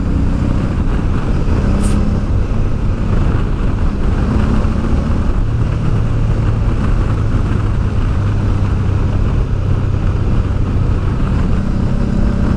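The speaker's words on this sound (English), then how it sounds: "I'm about to get overtaken by flipping Panzer here." Motorcycle riding down the Col de l'Iseran alpine descent as another vehicle overtakes it: a continuous loud engine drone and rushing wind buffeting the microphone, with low engine tones rising and falling throughout.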